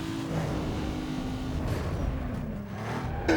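Street racing in Need for Speed Underground 2, with a steady engine drone and road noise throughout, a rising rev near the end, and a brief squeal at the close.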